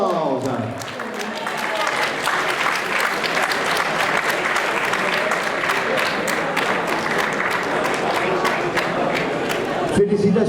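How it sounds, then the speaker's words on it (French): A large crowd at an outdoor raid awards ceremony applauds the 2014 winners, with sustained dense clapping and some cheering throughout, under a voice talking. "on peut encore les applaudir"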